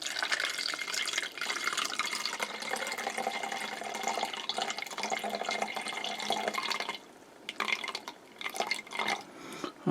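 Water carrying tomato seeds poured off from a container, a steady splashing trickle that runs for several seconds, then thins out into breaks and short gurgles.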